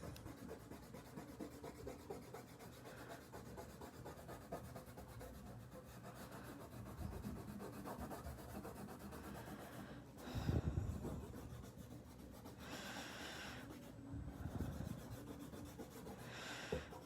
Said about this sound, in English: Let's get all of these pencil marks off.